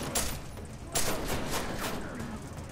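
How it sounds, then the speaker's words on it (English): Gunfire aimed at the player rattles through a firefight in Deus Ex: Mankind Divided, a string of sharp overlapping shots with a louder burst near the one-second mark, steady and fairly close throughout. "That's shooting at me."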